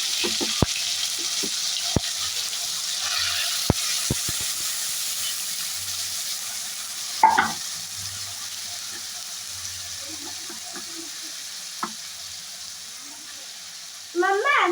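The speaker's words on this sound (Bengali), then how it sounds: "পেস্টটা তেলে দিয়ে দিচ্ছি" A paste of onion, tomato, ginger, garlic and chilli fries in hot oil in a kadai, producing a steady, close sizzling hiss with occasional sharp spits and clicks.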